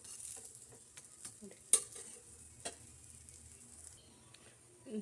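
Ragi roti cooks on a hot griddle pan with a quiet, steady sizzle, broken by a few soft taps and scrapes as it is handled.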